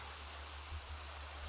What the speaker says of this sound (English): this rain is obnoxious